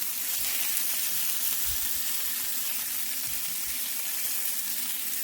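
Chicken shami kabab patties fry in oil in a pan, a loud, steady close sizzle with soft bubbling underneath and occasional low bumps, with no talking.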